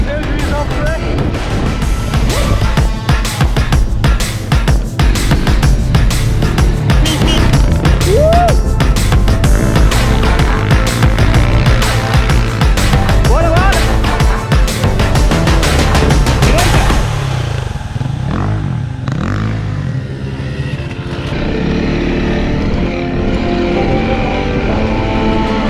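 A Honda CRF300L dirt bike ridden off-road at the head of a group of larger bikes, loud continuous engine and wind noise that suddenly drops to a quieter idle near the end.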